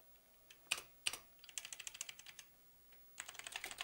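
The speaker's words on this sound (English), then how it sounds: "and just type." Keys clatter on a 1986 IBM PC Convertible keyboard, a few isolated sharp presses followed by quick bursts of typing, close and fairly quiet in an otherwise still room.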